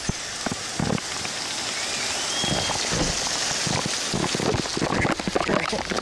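Steady rain falls on a hard surface in Arizona, with a dense patter of drops and scattered louder splashes throughout, close and continuous, with no voices over it.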